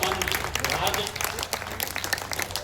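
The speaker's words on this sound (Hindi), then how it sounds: "एक बार तालियां बजाकर" Applause from the audience at a Hindi kavi sammelan poetry recital in Bhagalpur, a dense wash of clapping that runs steadily for a few seconds with some voices mixed in.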